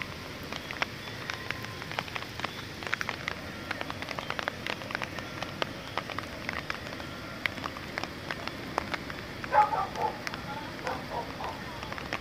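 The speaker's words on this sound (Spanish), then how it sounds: "Llueve pues acá en la ciudad de Cali, pero especialmente en Siloé." Rain falls across the Siloé neighborhood of Cali, a soft steady patter on surfaces with scattered sharper drips, fairly faint and continuous throughout, with a brief louder clatter near the end.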